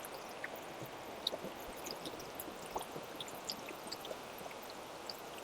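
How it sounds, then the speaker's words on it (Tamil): Water poured and splashing over raw chicken being washed by hand, a steady trickling stream with small drips and squishy handling sounds throughout, fairly quiet and close. "இப்போ சிக்கனை கழுவி எடுத்துக்கலாம்."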